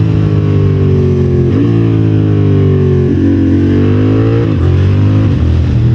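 A Honda CB750 Hornet motorcycle engine revs hard and continuously near the microphone, rising in pitch and briefly blipping through several quick-shifted gear changes, loud and steady with no voices.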